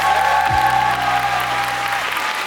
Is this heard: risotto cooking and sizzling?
no